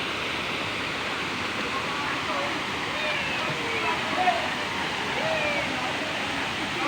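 Waterfall heard as a steady, moderate hiss of rushing water at some distance, unbroken throughout, with faint voices mixed into the wash.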